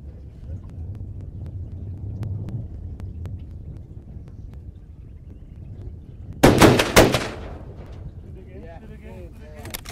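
Rifle shots from a Mauser M03 fired at a crocodile in the Caprivi, a sharp cluster of loud reports with quick echoes against quiet outdoor background, with someone speaking briefly.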